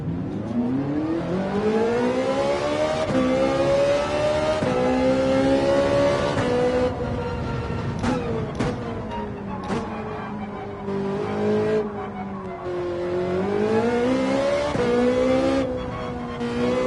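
A Ferrari race car in Gran Turismo 7 at the Nürburgring, its engine revving hard and continuously, pitch climbing and dipping through gear changes, loud and close, with a few brief tire squeals mid-run.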